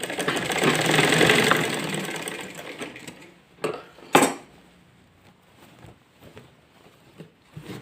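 Sewing machine stitching a salwar, a steady mechanical whir for the first few seconds that fades out, followed by sparse clicks and a couple of sharper knocks.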